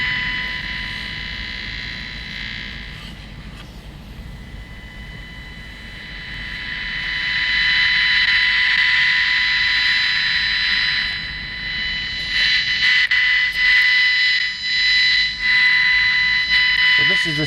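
Electromagnetic noise from a computer LCD, picked up by an EMF detector, rendered as a steady high buzzing whine with shifting tones, swelling louder midway and sputtering into choppy bursts near the end.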